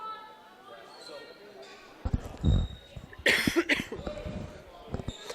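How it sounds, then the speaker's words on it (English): A few harsh coughs from a commentator at a high school girls' basketball game, close to the mic, with gym noise and bouncing in the background. "I'm sorry about the coughing."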